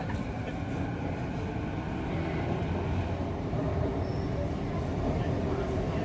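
A Vancouver metro train coming from the airport rumbles under the False Creek inlet, heard from inside a carriage as a steady, loud, low roar throughout.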